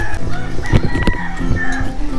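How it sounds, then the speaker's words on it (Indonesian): Chickens cluck and a rooster crows in a rural village in Bintulu, Sarawak, a brief loud burst of fowl calls close by over steady outdoor background sound. "dengan bunyi ayam dia."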